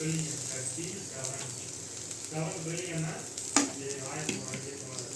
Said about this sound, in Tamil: நல்லா ஃப்ரை பண்ணிவிட்டு இஞ்சி பூண்டு வாசனை போனதுக்கப்புறம்